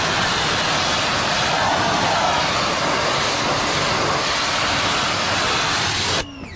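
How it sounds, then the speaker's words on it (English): Pressure washer blasts loudly and continuously into car door jambs and drains, a close, dense roaring hiss of spraying water that stops abruptly near the end. "Pressure washer blows all that out."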